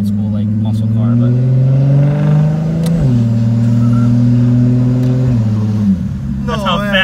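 A scooter engine revs hard and steps through quick gear shifts, its droning tone dipping sharply at each change before climbing again, loud and close, with a voice talking near the end.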